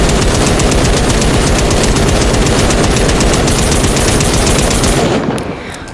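A full magazine of an assault rifle emptied in Fortnite: a long, loud, unbroken burst of rapid automatic fire lasting about five seconds before cutting off abruptly, with no talk.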